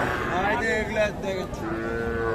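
Cattle, bulls and heifer calves, lowing amid a busy livestock market in Raniganj, with people talking throughout and several animal calls rising and falling over the crowd noise.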